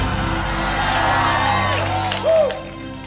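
A church congregation shouts and cheers in praise to God, a dense, loud crowd roar with whoops rising near the end.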